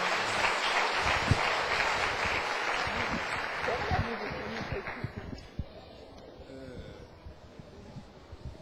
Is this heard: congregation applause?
yes